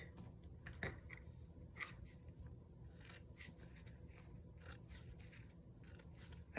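Paper ribbon is trimmed with an edge cutter, giving faint, close snips and crisp paper scrapes against a low hum of background noise, with no talking.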